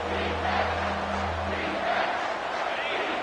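Stadium crowd noise from the NCAA 25 college football video game, a steady broad roar swelling slightly as the defense tries for a red zone stop, with a low hum underneath and no clear words.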